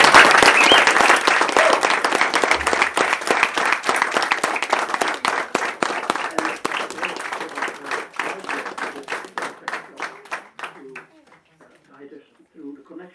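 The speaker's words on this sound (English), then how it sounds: "And please give a loud applause for everyone." Loud applause from a school audience fills the room, dense clapping that thins out and fades to scattered claps and near silence by the end, with some voices mixed in.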